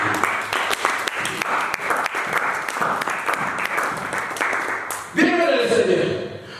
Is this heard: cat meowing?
no